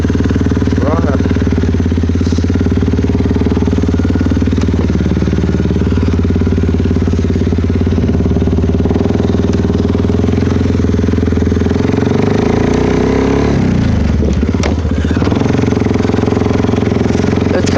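A 2012 Suzuki KingQuad 400 ATV with an HMF exhaust rumbles steadily at close range with loud low engine drone, then revs and shifts pitch near the end.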